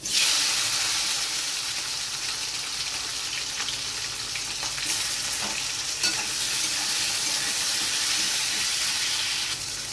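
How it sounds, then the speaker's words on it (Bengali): Chopped tomatoes hit hot oil with fried black mustard seeds and chillies, giving a loud, steady close-up sizzle and hiss that runs unbroken, with faint stirring scrapes and no talk. "এবার আমি দিয়ে দিচ্ছি কুচানো টমেটো"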